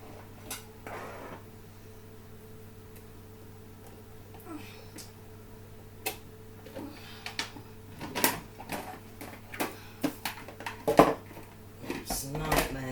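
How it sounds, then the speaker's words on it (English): A kettle being shifted around a home kitchen while cooking a cottage pie, giving scattered clinks and knocks of metal and crockery that grow busier toward the end, under a steady background hum. "Got to move the kettle"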